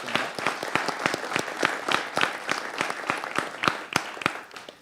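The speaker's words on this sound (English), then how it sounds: "How about a round of applause for Cotty?" Small group applauding a guest at a regular monthly board meeting in a meeting room, with distinct individual claps audible in a loose, uneven rhythm, close and moderately loud without talk.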